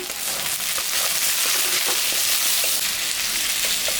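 Green chillies going into a curry of potatoes frying with salt and turmeric make a steady, close, loud sizzle, with faint stirring clicks scattered through and no voices.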